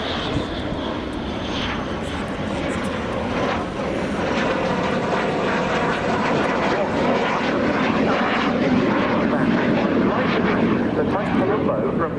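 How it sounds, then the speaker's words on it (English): A Fiat G91R1A jet starting its takeoff roll at the Royal International Air Tattoo air show, a loud continuous engine roar that stays steady throughout, heard under a commentator's ongoing talk. "starting its takeoff roll underneath, the Catalani Group's utterly magnificent Fiat G91R1A"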